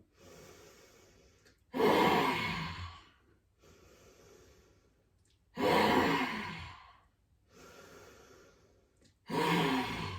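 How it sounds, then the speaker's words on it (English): During yoga, three lion's breath cycles: quiet nasal inhales, each followed by a loud, forceful, sighing exhale through the open mouth with the tongue out, spaced about every three and a half seconds. "Inhaling in through the nose, sticking out through the tongue."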